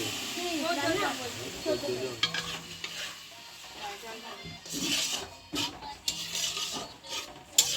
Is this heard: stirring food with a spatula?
yes